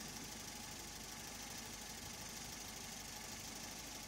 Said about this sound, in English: I start the engine